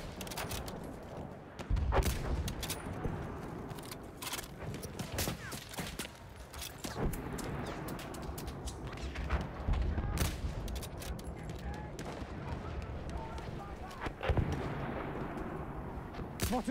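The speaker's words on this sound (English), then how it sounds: "Artillery battery, be careful!" Battlefield 1 battle ambience with booming artillery fire and scattered gunshots, some heavy blasts near and loud, others distant, over a dense continuous rumble of combat.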